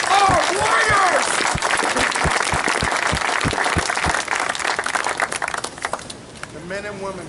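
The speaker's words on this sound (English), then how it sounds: "let's give them a round of applause." A crowd applauds veterans at an outdoor Black Hills gathering near Crazy Horse Mountain. Loud, steady clapping is joined by whoops and cheering voices, then it fades toward the end as a voice comes in.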